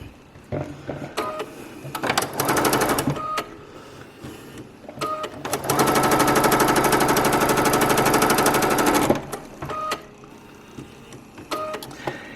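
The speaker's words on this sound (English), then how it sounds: "fold it over, and so you sew them together" Sewing machine stitching Dresden plate blades together for a table runner, with short mechanical bursts and clicks, then a sustained run of rapid needle strokes lasting several seconds before more brief stops and starts.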